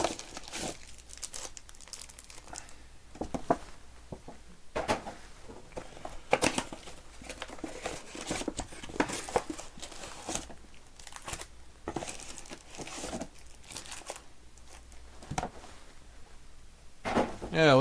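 Baseball card packs from a Topps Series 1 hobby box are handled and torn open, with close, continuous crinkling and rustling of foil wrappers and sharp tearing bursts throughout.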